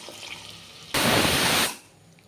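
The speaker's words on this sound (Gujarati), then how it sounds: "આપણા મસાલાને પાકવા માટે એક ટેબલ સ્પૂન પાણી નાખીશું" A tablespoon of water added to cooking masala for tuvar dal, a single loud burst of hissing splash lasting under a second, then quieter background.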